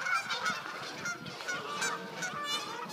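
Fighting geese honk loudly and close in a rapid stream of harsh, overlapping calls with scuffling noise underneath.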